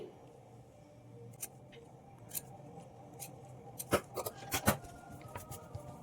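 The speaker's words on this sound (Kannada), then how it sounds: "ಕ್ಲಾತ್ ಎಕ್ಸ್ಟ್ರಾ ಏನಾದರೂ ಇದ್ದರೆ ಈ ರೀತಿ ಟ್ರಿಮ್ ಮಾಡ್ಕೊಳ್ಳಿ" Scissors trimming extra cloth from a sleeve cut-work design, quiet close snips scattered over a faint background, clustering into several quick cuts near the end.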